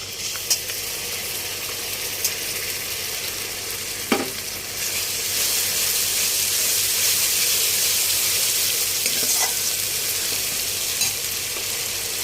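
Ginger garlic paste dropped onto frying onions in a pan, a few sharp clinks followed by a rising, steady hiss and sizzle that continues close and even, with no voices.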